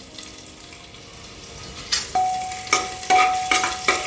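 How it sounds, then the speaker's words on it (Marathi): Garlic, cumin seeds and ginger frying in hot ghee for a vegetable pulao, a quiet sizzle broken by several sharp metallic scrapes and stirring clinks against the pot, heard alone. "आपल्याला हे लसूण छान ब्राऊन होईपर्यंत फ्राय करून घ्यायचं आहे"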